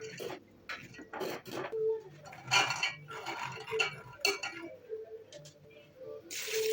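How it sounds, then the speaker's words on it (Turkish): Hard dried red kidney beans clatter and rattle into a metal pot in several short bursts, with clinks of cookware, close by. "Uygun bir tencerenin içerisine barbunyalarımızı ilave edelim."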